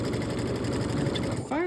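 Sewing machine stitching through a quilt binding corner, a steady close rapid needle rhythm running throughout before a voice briefly speaks at the end.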